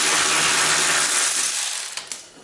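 Ratchet wrench loosening a 16 millimeter bolt on an engine bracket during removal of an SRT-4 engine, a close, rapid clicking run that fades out and ends with two sharp metallic taps.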